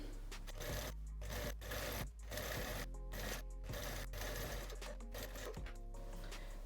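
A sewing machine stitches the corner of a fabric belt, a quiet, steady mechanical whirr broken by brief pauses as the seam is sewn back and forth.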